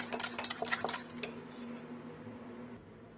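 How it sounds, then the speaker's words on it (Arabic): Utensil scraping and clinking against a bowl while calentica batter of sugar and oil is mixed, a quick run of close clinks and scrapes in the first second that then fades to a faint hum. "غنخلط مزيان باش هاد السنيده هادي تذوب في هاد الخليط"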